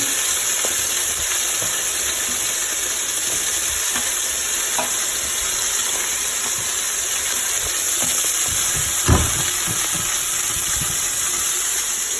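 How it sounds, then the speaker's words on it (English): Beef mince browns for a ragu in a hot pan, giving a steady close sizzle and hiss throughout with occasional stirring scrapes and one louder clunk near the end. "Brown up some meat while I'm doing that."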